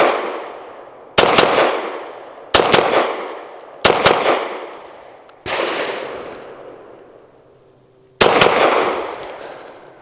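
An Adler Arms AD 9 pistol fires quick double shots outdoors, five sharp loud cracks spaced a second or two apart, each a fast pair with a decaying echo tail, and no talking.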